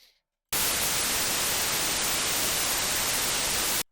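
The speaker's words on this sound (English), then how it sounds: "so on to the white noise, which" Music-software white noise bursts in abruptly after a brief faint moment and holds as a loud, steady, full-band hiss, then cuts off sharply at the end.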